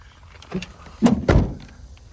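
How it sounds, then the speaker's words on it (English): A car door at a police towing auction pops as it opens, giving a soft tap followed by two heavier, close thunks, each a single quick knock in a quiet outdoor setting. "Door popped a little bit when it went to open."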